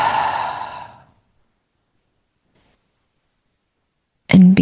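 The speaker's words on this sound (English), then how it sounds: "Perhaps take a deep breath in and a deep breath out." A deep breath out fading over about a second, then a long silence and a short, loud breath or sigh at the very end.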